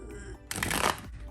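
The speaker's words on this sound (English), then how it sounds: "So let's see how it shuffles, because these are really like long cards." Long tarot cards being shuffled by hand, a brief papery riffling burst in the middle, close and fairly soft, between quieter handling noise.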